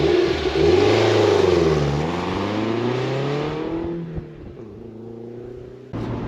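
A Toyota MR2 Mk3 sports car engine with the roof up revs loudly, its pitch rising and dipping through a gear change, then falls back to a lower, steady drone.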